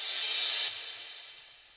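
A crash riser before a drop in Ableton, a bright noisy wash that cuts abruptly partway through and then decays slowly, loud and alone with no kick clearly audible.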